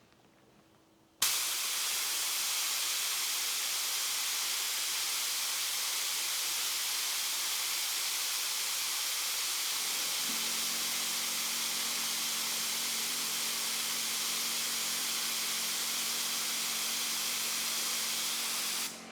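After a brief quiet start, a portable compressor driving a Drizzle D1 airbrush spraying paint gives a sudden, loud, continuous hiss that holds steady for many seconds, with a low motor hum joining partway through.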